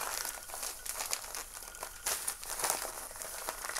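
Small plastic packets of potassium fertilizer crinkle and rustle continuously as they are handled close by, with no talk.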